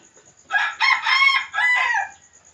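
A rooster crows close and loud, a full multi-part cock-a-doodle-doo lasting about a second and a half against a quiet background.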